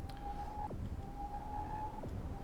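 An incoming-nuke warning siren in the World in Conflict strategy game, a steady high tone that twice sweeps sharply downward, sounding continuously over a dense low rumble of battle noise.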